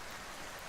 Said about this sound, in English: The unceasing rain drenches the main motorway and the various gravel roads in the rural districts around the town